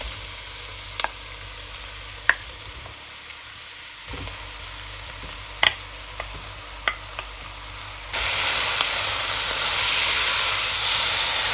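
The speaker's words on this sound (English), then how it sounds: "we need to brown the meat and the onions" Meat and onions fry and sizzle in a pan over high heat, with a steady hiss, a few sharp clinks of a utensil, and a louder surge of sizzling near the end.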